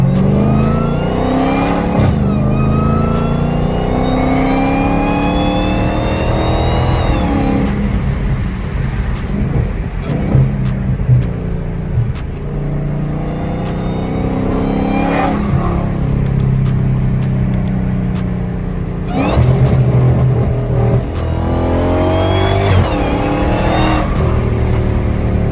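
A Dodge Hellcat revving hard: its supercharger whine rises and falls in bright sweeping tones over a loud, deep engine roar, with several distinct rev bursts spread across the clip.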